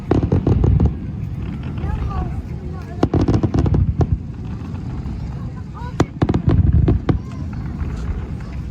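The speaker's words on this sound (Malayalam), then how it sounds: "ഇവിടെ ഇന്ന് നടന്ന റോയൽ കമ്മീഷൻ നേതൃത്വം നൽകി നടത്തിയ വെടിക്കെട്ടാണ് ഇപ്പോൾ കഴിഞ്ഞത്" A fireworks display staged by the Royal Commission in Yanbu, Saudi Arabia, for Founding Day celebrations: sharp bursts and crackling pops ring out repeatedly, some near and loud, others distant, over a murmuring crowd with voices throughout.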